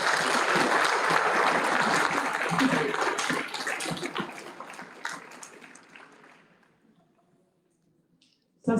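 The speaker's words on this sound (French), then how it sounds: "Et je voudrais donc qu'on les applaudisse tous ensemble." An audience at a community council meeting applauds, loud dense clapping that thins and fades out over several seconds into near silence before a brief sound at the very end.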